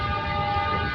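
At Pathankot Junction, a train sounds a sustained, steady tonal horn blare that fills the whole second, loud and close.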